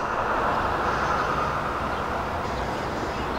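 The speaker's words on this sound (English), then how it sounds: "inbound train pulling into the station." Continuous broad rumbling of an inbound train pulling into a station on a BNSF line, steady and fairly loud, with no voices.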